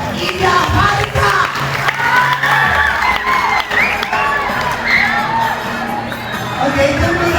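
A school audience of students cheers, shouts and whoops loudly together at an entrepreneurship session, a dense, sustained crowd roar with children's voices rising and falling throughout.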